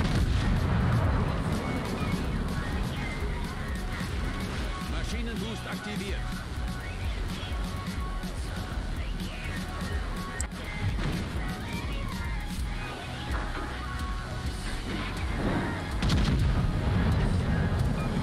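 Secondary guns on a warship keep firing in a naval battle video game, a dense run of booming artillery shots going on steadily for the whole stretch over a low rumbling background, with a voice heard over it in places.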